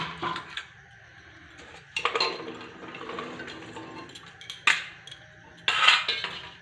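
Peas and potatoes are tipped into a pressure cooker pot in a home kitchen, making several sharp metallic clinks and clatters spread across the moment, with quieter rattling and scraping between them.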